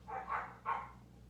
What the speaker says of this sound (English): Puppies are fighting in the kennel.